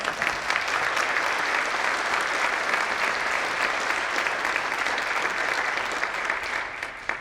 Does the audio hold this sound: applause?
yes